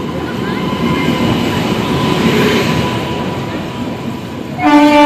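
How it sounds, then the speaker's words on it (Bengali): A train rolls into a station with a long, steady rumble of wheels and carriages, followed near the end by a loud, sharp horn blast. "চলে এসছে ট্রেন।"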